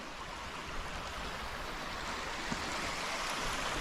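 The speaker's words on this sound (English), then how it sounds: "that's where the little stream comes from, comes tumbling down there" Small stream tumbling down a hillside in Reelig Glen near Inverness, Scotland, a steady broadband rush of water with no pauses, heard alone without voices.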